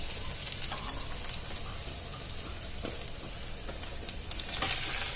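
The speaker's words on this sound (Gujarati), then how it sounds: "શાકનો વઘાર થાય છે" Vegetables being tempered (vaghar) in hot oil in a home kitchen in Ahmedabad, giving a steady, hissing sizzle with faint crackles throughout.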